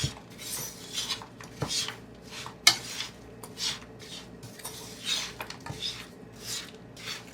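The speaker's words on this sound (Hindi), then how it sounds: "इसको थोड़ा सा मिक्स कर लेंगे।" Spoon stirring raw mango with jaggery, cinnamon stick and green cardamom in a pot, irregular close scraping and clinking strokes against the metal, quiet with no talk.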